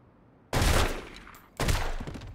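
Gunfire in a mafia video game: two loud, sharp bursts of shots about a second apart, close and punchy, with no talk over them.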